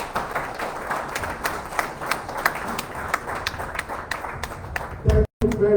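An audience at a national youth conference claps after a speech. Individual hand claps stand out within scattered applause, with murmuring voices underneath. A brief loud thump and a moment of silence come near the end.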